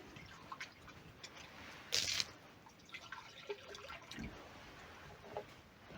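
Water is poured into a rabbit's feeder dish to rinse it out, giving faint drips and small splashes over a low room hush, with one brief brighter splash partway through.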